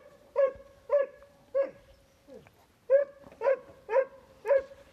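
A mother dog near her puppies' kennel barks repeatedly in short, evenly spaced woofs, close and fairly loud, with a brief pause midway before the barking resumes.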